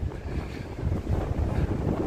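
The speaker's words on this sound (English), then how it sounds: "super windy" Strong wind buffets the microphone in a continuous low roar, rising and falling in gusts, with no voices, on a city walk in Tokyo between Tokyo Station and Akihabara.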